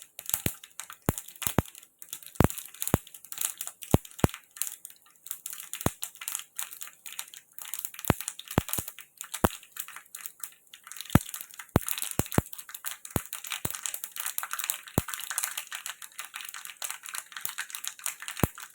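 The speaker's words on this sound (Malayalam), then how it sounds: "ഓയിൽ ചൂടായിട്ടുണ്ട്. അതിലോട്ട് 1 ടീസ്പൂൺ കടുകിട്ട് കൊടുക്കാം." Mustard seeds spluttering in hot coconut oil, a dense run of sharp pops and crackles scattered irregularly over a faint hiss, close and crisp with no voices.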